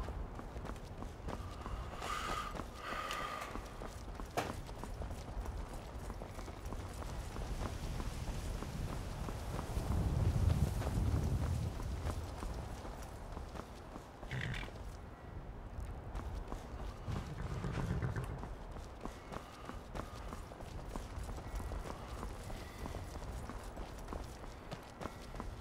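Horse hooves clop on the ground in Skyrim, a rhythmic run of hoofbeats that swells closer around the middle and again later, over a low rumbling outdoor backdrop with no talking.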